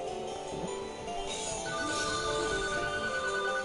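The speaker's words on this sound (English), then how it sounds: "I'm not answering that phone." A phone rings in a farming video game, a steady electronic ringtone with repeating tones sitting over light background game sound.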